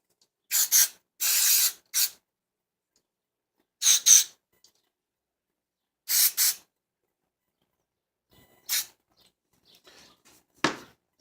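Contact cleaner sprayed from an aerosol can onto rebuild kit parts, a series of short hissing bursts of varying length separated by pauses, close and clear with no talking.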